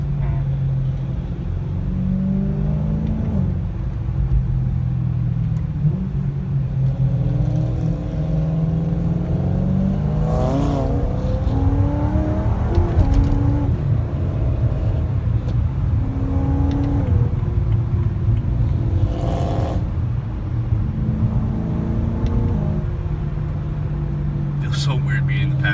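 Cabin view of a supercharged BMW M3 engine pulling hard and downshifting, a steady low rumble with rising and falling rev sweeps throughout, while passengers talk over it.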